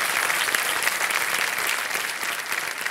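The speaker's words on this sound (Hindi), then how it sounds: "एक बार फिर तालियां बज जाए इनके लिए" A studio audience on Kaun Banega Crorepati applauds steadily throughout, a dense, even patter of many hands clapping at moderate loudness with no voices on top.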